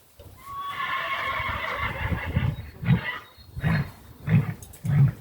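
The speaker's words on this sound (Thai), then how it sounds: "เสียงม้าร้องอีกแลย" A horse neighs in a backyard garden, a long whinny with harmonic wavering up front, then several short loud snorting calls in a steady rhythm close by.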